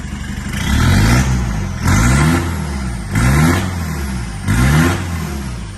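A 2007 Isuzu D-Max Hi-Lander 2.5 pickup truck engine with a manual gearbox revs hard four times in a row, each roar climbing then dropping back to a rumbling idle between pulses.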